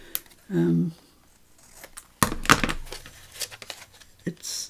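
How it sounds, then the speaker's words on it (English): Scissors snipping the corners off a piece of card for a Tim Holtz trifold craft project, a few crisp close cuts and rustles following a brief burst of speech. "So I'll just cut the corners off him as well."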